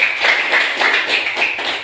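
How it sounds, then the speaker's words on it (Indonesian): Classmates in a classroom clap for a fellow student in a quick, evenly paced rhythmic pattern of sharp bursts, close and fairly loud, with no talking. "Tepuk tangan untuk teman"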